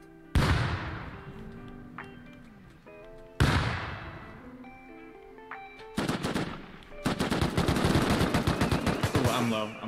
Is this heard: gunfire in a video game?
yes